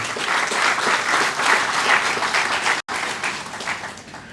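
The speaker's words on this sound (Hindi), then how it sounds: "हम सब की तरफ से उनका तालियों के शोर में हार्दिक अभिनंदन" Audience applause at a book launch ceremony for a Gandhi book, steady dense clapping filling the room at full volume, with a brief dropout near the end before it resumes.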